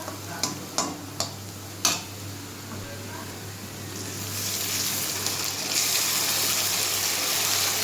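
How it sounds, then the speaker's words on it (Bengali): Onions frying in a pan: a few sharp clicks from the start, then a steady, broad sizzle that grows louder and fills the second half of the clip. "পেঁয়াজটা সুন্দর করে লাল লাল করে ভেজে নিয়েছি।"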